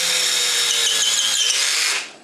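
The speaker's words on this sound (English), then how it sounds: "It's easier to drill deeper" An electric drill whines at high speed as it bores deeper into wood, loud and close, holding steady before winding down quickly at the end.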